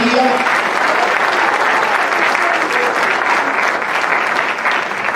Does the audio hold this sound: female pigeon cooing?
no